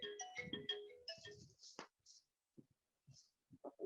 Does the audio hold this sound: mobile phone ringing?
yes